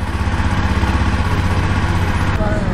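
A Jawa Bobber 42 motorcycle engine runs steadily with a low, pulsing exhaust throb throughout, close and loud, with a short change in tone near the end.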